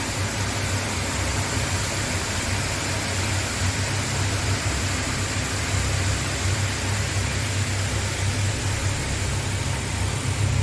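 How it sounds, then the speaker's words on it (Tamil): A waterfall at Malampuzha garden in Kerala roars as a dense, steady rushing wash that stays loud and unbroken throughout. "பாருங்க, ஃபால்ஸ் நல்லா இருக்கு."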